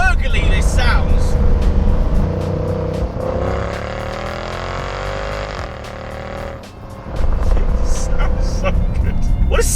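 A 2007 Mercedes CL63 AMG with a 6.2L V8 gurgles and hums while driving, a steady engine drone that rises in pitch as it accelerates, with a voice talking over it.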